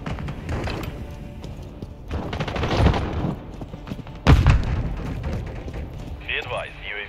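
A frag grenade explodes in Call of Duty Modern Warfare 3 Kill Confirmed on the Mercado Las Almas map, a loud booming burst standing out from steady gunfire and battle noise, with radio-style voices around it.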